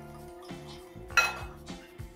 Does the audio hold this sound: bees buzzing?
no